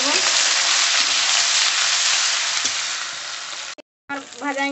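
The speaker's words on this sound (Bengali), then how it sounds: "দেবো এটা রসুন বাটা আর পেঁয়াজ বাটা, এটা দিয়ে নেবো আগে, এটাকে ভাজিয়ে নেবো" Garlic paste and onion paste sizzle loudly in a hot pan, a steady dense hiss that cuts out briefly near the end before resuming with a softer crackle.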